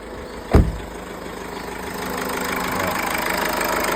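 The 1.6 i-DTEC 160 hp diesel engine of a 2016 Honda CR-V idles with a steady, close, rumbling drone, after a single sharp knock-like thump early on.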